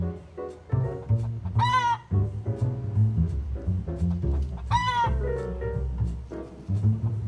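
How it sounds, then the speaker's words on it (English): Backyard city chickens clucking and squawking close by, with two loud rising crows or cackles standing out among a busy, uneven chorus of hen calls. "I'll hear just one chicken just raising the roof, just clucking"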